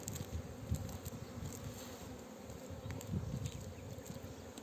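Honeybees buzz steadily at an open hive while a beekeeper splits frames. The hum is dense and close, with a constant drone of many wings that swells slightly now and then, and no talking.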